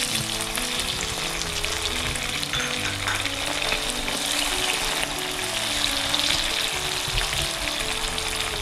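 Tomato and curry leaves stir-frying in a pan for chicken chukka: a loud, dense, continuous sizzle with a steady crackle and occasional stirring scrapes, heard alone with no talk.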